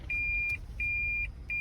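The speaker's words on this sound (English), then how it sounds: "that's my backup beep here on the Prius" A Toyota Prius reversing alarm beeps three times, each a steady, clean electronic tone lasting about half a second, evenly spaced and moderately loud over a low idle hum.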